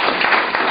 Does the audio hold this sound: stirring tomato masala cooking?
no